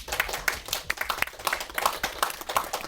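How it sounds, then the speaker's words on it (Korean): An audience at a Korean independent film screening and talk applauds the director and actors, a steady patter of many hands clapping at moderate volume throughout. "저희 그 감독이랑 배우분들 관객분에게 박수 한번."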